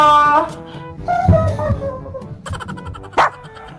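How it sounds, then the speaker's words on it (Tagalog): A dog barks repeatedly in sharp, close yips and woofs, with irregular spacing and a louder bark near the end. "Pero bakit tumatahol siya?"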